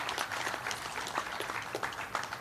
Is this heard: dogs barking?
no